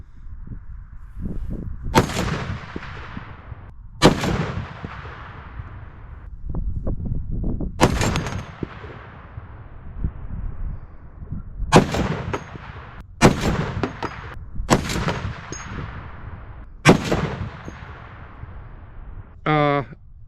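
.50 caliber rifle shots smash into a concrete block, about seven loud, sharp cracks spaced a few seconds apart, each with a ringing decay, amid outdoor rustle and a brief mechanical rattle near the end.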